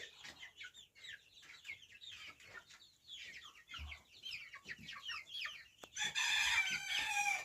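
Young chickens in their enclosure, a busy chorus of close chirping and clucking peeps throughout, growing louder and denser toward the end.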